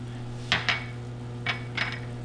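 Minced bacon being stirred into onion jam in a pot: a few light scraping clinks of a utensil against the pot, in two pairs, over a steady low background hum.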